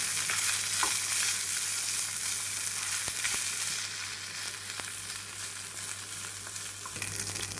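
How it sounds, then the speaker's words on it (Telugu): Cooked rice being mixed with curry leaf powder in a frying pan, a continuous close sizzle with soft spoon scraping and a few faint clicks throughout, no voices. "వేసేసుకొని ఇది మొత్తం ఇలా అయితే కలుపుకోవాలి."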